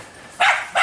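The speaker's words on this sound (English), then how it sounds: "Even the dog's answering. Even the dog's excited." A dog gives two quick, sharp barks close by, one right after the other, with no voices in between.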